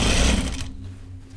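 A sewing machine stitches a backpack seam with a loud, close, fast mechanical whir that starts at full speed and then eases off into a quieter hum within about a second.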